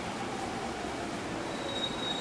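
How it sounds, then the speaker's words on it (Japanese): A JR Keihin-Tohoku Line rapid train bound for Ofuna pulls into platform 4 at Akihabara station with a steady rumble of rolling stock, wheel noise and a thin high squeal of wheels braking near the end. "4番線に快速大船行きが参ります。"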